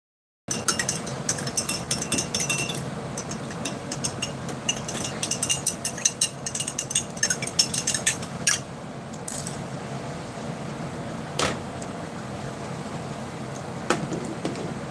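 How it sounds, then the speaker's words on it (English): Stirring drink powder into a drink from a 2019 US military MCW ration, Menu 10: quick rattling clinks of a utensil against a container, dense for about eight seconds, then sparse taps, close and with no talk. "Needs another stir, so it didn't completely dissolve."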